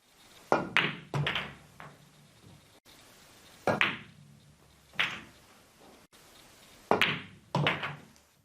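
Sharp, close clicks of a pool cue tip striking the cue ball, with a softer knock as balls collide, heard in several separate pairs and groups over quiet, with no talk.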